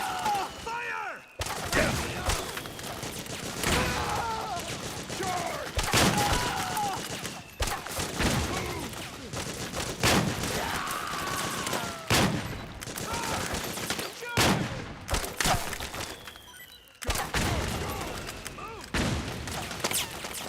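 Rapid bursts of gunfire crackle through a video game firefight in Metal Gear Solid 4, with repeated volleys and booms over sustained battle noise while soldiers shout commands.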